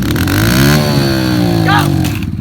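A dirt bike leaves the gate at a practice race start, its engine revving up in one rising, then steadying roar, loud and close, briefly dipping near the end.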